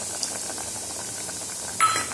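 Mutton intestine gravy with coconut and a little water simmers in an uncovered pot, giving a steady soft bubbling hiss with a brief brighter sizzle burst near the end, fairly faint and close.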